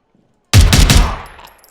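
Burst of rapid gunfire in the shooter video game Zero Hour, a loud close volley of several quick shots after brief silence, trailing off in a fading echo.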